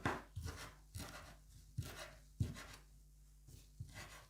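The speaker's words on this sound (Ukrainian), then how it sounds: "Я дуже люблю зеленою петрушкою. Нарізаю швиденько." A knife chops parsley quickly on a cutting board, a series of crisp, close taps coming in short bursts with brief pauses between them.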